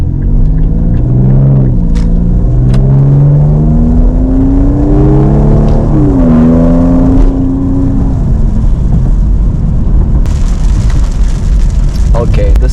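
Infiniti Q50 with a VR30 engine making a dyno pull: a loud engine drone whose pitch wavers and climbs, over heavy rushing noise, with no clear talk.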